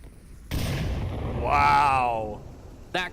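A grenade explosion in the VR shooter Onward, a loud sudden blast that rumbles and fades, with a voice speaking over its tail and another sharp burst near the end.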